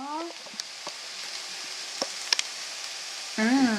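Freshly chopped onions added to sautéing aubergines give a soft, steady sizzle with scattered small pops and clicks, and a voice briefly speaks at the start and end.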